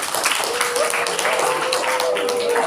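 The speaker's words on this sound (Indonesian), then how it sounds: "Tepuk tangan dulu." A group at a Scout (Pramuka) lesson claps hands together, a busy, sustained patter of clapping mixed with chatter and voices across the whole short stretch.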